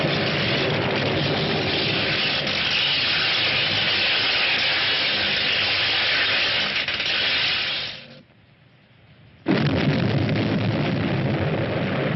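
A sci-fi film's strong explosion effect roars as a loud, sustained rushing blast, cuts to near silence for about a second, then bursts back just as loud.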